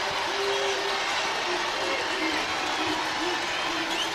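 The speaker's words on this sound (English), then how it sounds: "Crowd in Baton Rouge has been lit from the start" A basketball arena crowd in Baton Rouge roars steadily through a women's college game between LSU and Texas, a dense, sustained wash of cheering with no break.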